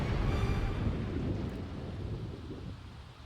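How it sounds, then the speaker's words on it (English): Thunder rolls through a video-game thunderstorm, a loud, dense rumble with steady rain hiss that stays heavy and fades only slightly over a few seconds, with no talking. "then the lightning struck right there"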